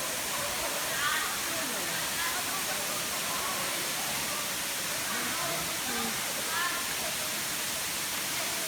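Consocep Falls waterfall in Tigaon, Camarines Sur, a steady broadband rush of falling water that holds constant throughout, with faint indistinct voices or birds surfacing briefly in the background.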